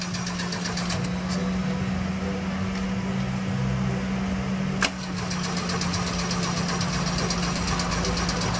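Renault Clio 1.6 engine running steadily at idle with a low hum and slight knocking, one sharp click partway through, no talk.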